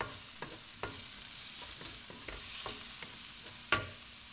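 Garlic frying in a pan with intermittent stirring, producing a steady close sizzle broken by sharp scraping clicks of a utensil against the pan.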